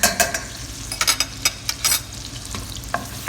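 Chopped garlic sizzles in a hot pan while a utensil stirs and scrapes through it, giving close, uneven clacks over a constant frying crackle during preparation of a chicken feet dish.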